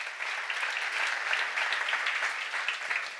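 A church congregation at a seminar breaks into sustained applause, a dense, steady patter of many hands clapping for about three seconds with no voices over it.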